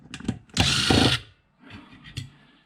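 A power screwdriver whirs in a short close burst of about half a second while undoing screws on an RF amplifier, with small clicks and handling noises before and after.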